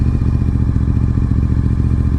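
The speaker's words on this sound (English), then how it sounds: "Let's see how low we can go with the revs." A Honda RC51 (VTR1000 SP2) sport motorcycle engine idles at low revs, a loud, close, even throbbing rumble that holds steady throughout.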